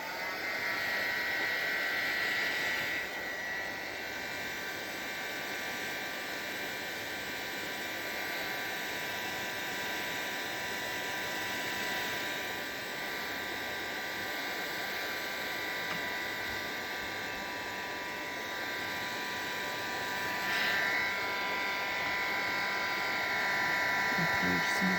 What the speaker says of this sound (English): excuse the noise from the heat gun